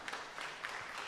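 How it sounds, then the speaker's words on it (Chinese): An audience claps at a youth church gathering blending poetry, music and worship. The applause is a short, faint burst of diffuse clapping with no pause. "我们就拍拍手"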